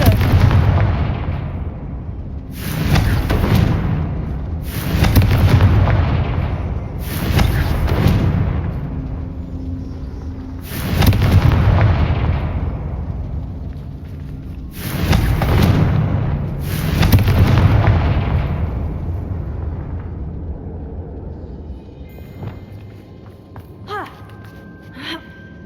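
Repeated Confringo spell explosions in the video game Hogwarts Legacy, about seven heavy booming blasts at irregular intervals, each with a sharp crack and a rumbling tail, loud and close, then fading into quieter ambience.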